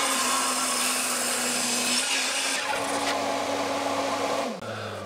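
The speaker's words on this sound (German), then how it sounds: "säge das zweite Stück durch" A power saw whines steadily as it cuts through wood, a loud sustained buzz with a high grinding edge, then the motor pitch drops as it winds down.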